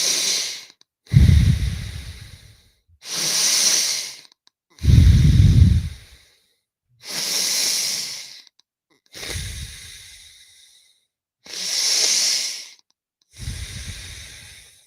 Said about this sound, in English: Keep on breathing.